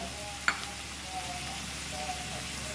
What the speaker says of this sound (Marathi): आता याला चांगलं परतून घेते